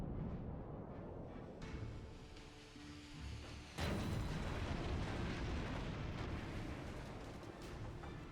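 Battleship main guns fire in World of Warships, a deep booming blast landing partway through over a rumbling battle background, with scattered smaller distant pops before it and no speech.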